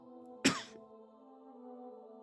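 A single sharp cough and throat clearing, close and sudden, from a sound effect in the game Morrowind's Tamriel Rebuilt, followed by a steady tonal ambient hum.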